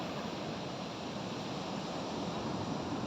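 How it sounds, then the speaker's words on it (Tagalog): Broad, roaring surf of large ocean waves on the coast between Bataan and Subic, a continuous rushing wash with some wind noise against the microphone. "Ang lalaki ng alon dito, oh."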